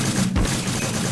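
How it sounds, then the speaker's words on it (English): Loud weapon fire in a Minecraft zombies game, a dense, rapid burst of shots with a heavy thud near the middle, close and harsh, with no talk. "Like, weapons are just extremely loud."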